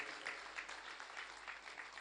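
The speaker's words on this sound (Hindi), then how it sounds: "इनके लिए जोरदार तालियां बजाइए।" Applause from a gathered audience at a saints' assembly marking a silver jubilee festival, a steady, even wash of clapping at moderate distance, running alone and unbroken throughout.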